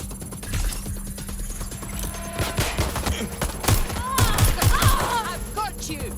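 Sustained gunfire from the video game Watch Dogs Legion crackles in quick, uneven bursts throughout, mixed with other game effects and shouted speech over the top.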